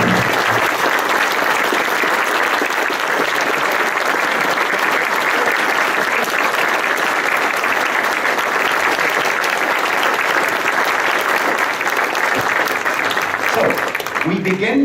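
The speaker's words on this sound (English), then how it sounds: "May we ask you, the audience, to stand up and to give Rob a big applause for his tireless efforts to keep the radio memories alive." A standing audience at an event on offshore radio stations gives long, sustained applause, steady and full throughout, with a voice speaking briefly as the clapping dies out at the end.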